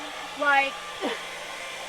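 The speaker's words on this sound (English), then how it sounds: "You take a fucking blow dryer." A blow dryer runs with a constant airy whoosh throughout, close and steady, while a person briefly speaks over it.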